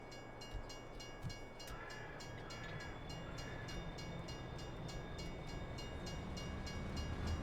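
A train running in Farming Simulator 22, heard as a steady low rumble with a faint repeating tonal hum and light clicking, moderately quiet and alone with no talk over it.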